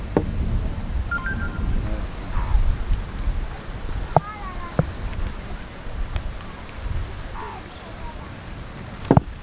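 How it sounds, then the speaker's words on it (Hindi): Rain beginning to fall outdoors in a village, a soft steady patter with scattered drop hits, faint rumbles and a few sharp knocks in the background. "और अभी बारिश होना शुरू हो गई है।"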